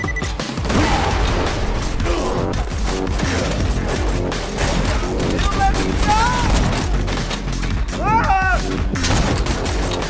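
Rapid gunfire and booming shots from the video game Borderlands 2, dense and loud throughout with clattering mechanical effects, while a voice talks over the action.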